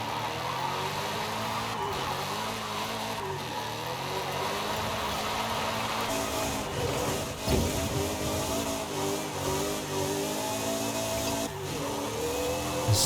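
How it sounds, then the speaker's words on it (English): A modded car in Forza Horizon 5 drifting slowly sideways, its differential and transmission whining steadily over a droning engine, loud and continuous throughout. "It's just the sound of the diff in the transmission now that you can hear a lot more of it"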